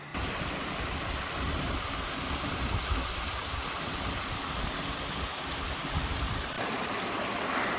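Blackden Brook flowing at the foot of its valley below Kinder Scout's northern edge in the Peak District, a steady rushing, burbling wash of water heard close and continuous.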